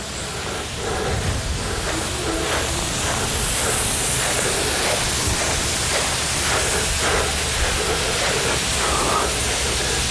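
A lawn sprinkler system sprays water across the yard of a preowned model home, making a steady, loud, broadband hiss that runs without a break for the whole stretch.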